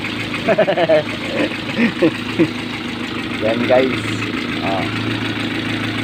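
An old engine idling steadily, a low continuous rumble running throughout beneath someone talking over it.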